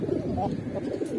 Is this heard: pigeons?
yes